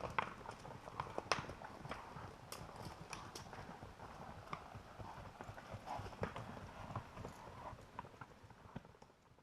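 A string of horses walks a wilderness trail in Jasper-Willmore country, hooves clip-clopping in a steady uneven patter at moderate distance, with faint background voices.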